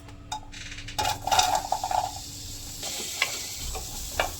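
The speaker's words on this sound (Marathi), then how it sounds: "मी यामध्ये थोडं तेल घालत आहे कारण हे कांदा भाजून घ्यायचा" Onion fries in oil in a pan with a steady crackling sizzle, broken by a few clinks of utensil against metal and a scraping stir, close by.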